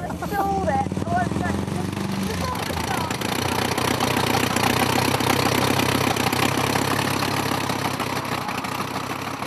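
A McAvoy motorcycle engine runs with a steady, loud, thudding mechanical chug that persists the whole time, while people talk over it.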